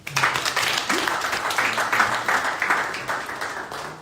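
Audience clapping fills a meeting room in Glasgow for the whole moment, a steady dense patter of many hands at moderate volume with faint voices mixed in.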